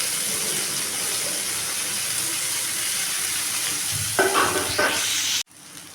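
Chopped onions frying and browning in a pan for a quick onion-tomato chutney, a continuous close sizzle with a brief stirring scrape near the end before it cuts off.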